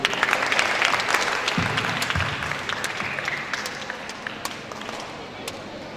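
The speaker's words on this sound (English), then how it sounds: "A round of applause," An audience at a school forum applauds a division head's introduction, steady dense clapping that starts strong and gradually tapers off.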